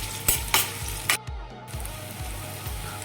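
Chopped onions fry with cinnamon and cloves in a pan, giving a steady close sizzle broken by a few sharp scraping clicks as they are stirred.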